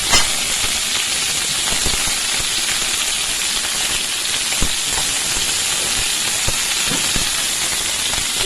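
Okra sautés in a pan with salt and turmeric, giving a steady, loud sizzling hiss that continues evenly throughout, with a few faint clicks and no talk.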